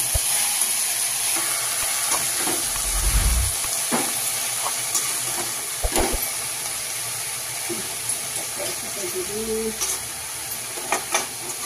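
Tandulja amaranth greens roast in a hot pan, giving a continuous sizzle and hiss with occasional scrapes and stirring knocks of a spatula, close and steady with no talking.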